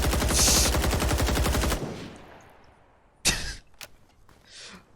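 Sustained automatic weapon fire from a Vietnam-era gun in Rising Storm 2: Vietnam, a rapid loud burst of shots for nearly two seconds, followed by a fading tail and a few sharp isolated clanks and thumps.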